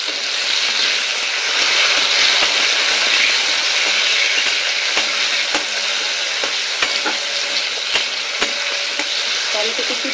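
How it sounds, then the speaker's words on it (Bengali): Chopped tomato fries with potatoes in hot oil, a steady close sizzle broken by frequent sharp clicks and scrapes of a spatula stirring the pan. "টমেটো কুচি দিয়েও আলুর সাথে খুব ভালো করে নেড়ে নেব"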